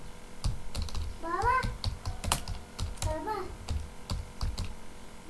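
Rapid, uneven typing on a computer keyboard while writing in MS Word: a steady run of close, crisp key clicks with a voice speaking briefly over the middle.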